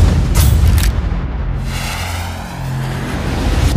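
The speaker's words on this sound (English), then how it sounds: "You got mortar fire about 3 clicks north of your position." Mortar explosions in the urban combat shooter Sniper Ghost Warrior 2, set in Sarajevo: a loud, deep boom opens, then its rumbling tail rolls and fades before a second low blast swells near the end.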